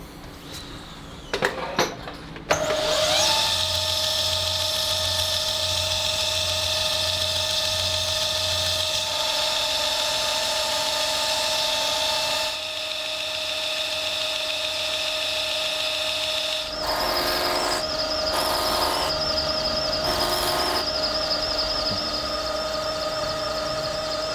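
A knife blade being finished on a 320-grit abrasive belt, a loud steady high-pitched whine from the belt machine with brief contact changes and a short pause midway, close and continuous.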